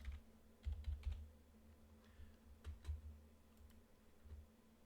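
Keys tapped on a computer keyboard while entering a password: a few quick clusters of soft clicks, faint and close, over a low steady hum.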